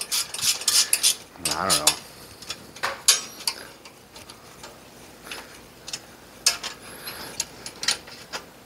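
Two speed wrenches work bolts loose on a Brunswick A2 bowling pinsetter turret, giving a scatter of sharp metallic ratcheting clicks and clanks, close and uneven, with brief speech.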